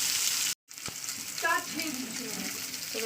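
Fish pieces seasoned with salt and turmeric sizzle steadily in a hot pan of oil, a broad continuous hiss broken by a brief dropout early on and a few clinks of utensils.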